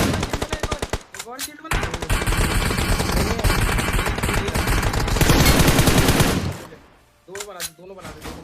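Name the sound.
gunfire, cover fire in a shooting video game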